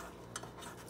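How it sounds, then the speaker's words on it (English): Egg mixture stirred in a bowl with a utensil, a soft steady scraping and swishing with one brief clink against the side, fairly quiet and close. "now we're gonna mix that all together"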